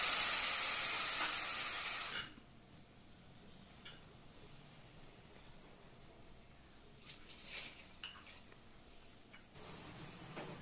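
Water hits a hot pan of potatoes and bitter gourd and bursts into a loud hiss for about two seconds, then settles to a faint, quiet simmer with scattered small crackles.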